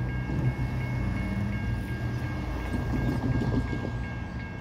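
A short northbound Norfolk Southern intermodal freight train passes on track one with a steady low rumble and rolling wheel noise, plus a faint high ringing tone, heard from nearby.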